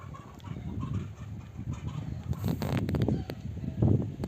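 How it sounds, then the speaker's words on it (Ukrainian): Hens cluck in short bursts close by as a dog chases a hen, with an outdoor background hum and some scattered noises in a garden orchard during tree pruning. "Собака курицю ганяє."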